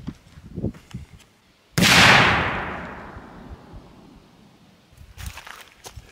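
A choked muzzleloading shotgun loaded with 90 grains of powder and No. 6 shot fires once outdoors, a single sharp loud blast that decays over about a second, with faint shuffling sounds before and after.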